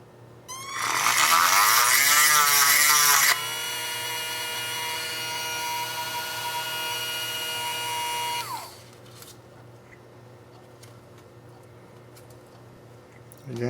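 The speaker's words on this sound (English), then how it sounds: "looks like I'm going to have to use a drill again" A high-pitched rotary drill whines loudly for several seconds, its pitch sliding as it bites into a plastic model, melting plastic on the tip, then winds down to a quieter hum.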